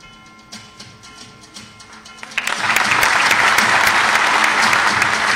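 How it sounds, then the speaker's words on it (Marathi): An audience breaks into loud, sustained applause at an appointment-letter distribution ceremony for water conservation officers, starting after a quieter moment and filling the hall without pause. "टाळ्यांचा व्हॉल्यूम जोरदार असायला पाहिजे"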